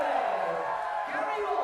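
An American crowd at a USA versus Canada darts championship cheers and whoops in a steady roar, with a commentator's voice layered over the noise.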